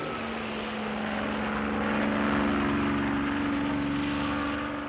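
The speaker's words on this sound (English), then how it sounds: "It's a chopper." A helicopter drones steadily overhead, swelling a little louder mid-way and then easing off, heard on its own with no talking.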